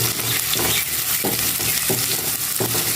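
Onions frying in a pan for pasta shells with chicken, a loud close sizzle with rhythmic stirring strokes repeating about every half second.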